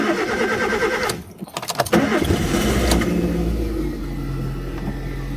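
A car engine cranks briefly after its loose battery bolt is tightened, catches and settles into a steady idle with a low rumble, heard up close and alone.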